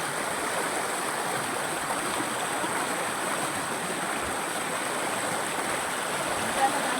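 A village river in Konkan flowing where a mother washes clothes, a steady broad rush of water close by that carries on without pause, with faint background voices.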